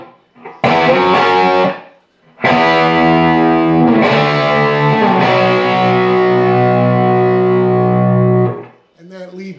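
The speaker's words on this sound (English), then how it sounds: "So let me play the whole pre-chorus because there's some ending chords." Distorted electric guitar playing the pre-chorus, a short stab followed by long sustained ringing chords with several chord changes, close and loud.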